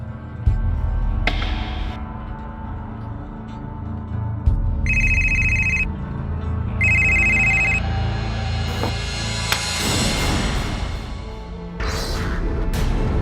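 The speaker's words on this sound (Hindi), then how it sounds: "फोन लगा लास्ट डायल नंबर पे।" A phone rings after the last dialed number is redialed, its electronic ringtone sounding in two short bursts over a low background hum and rustle, followed by further scattered noises and shifting tones.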